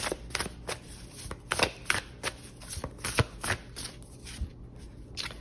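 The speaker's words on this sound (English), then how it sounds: "Let's pull some oracle cards." Oracle cards shuffled by hand up close, a rapid run of papery riffles and taps in uneven bursts over faint background noise.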